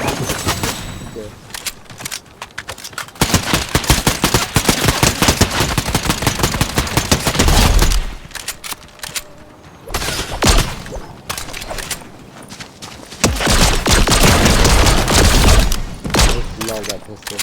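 Rapid bursts of pistol gunfire in a squads shooter video game, loud and close, coming in clustered volleys with short quiet gaps between them.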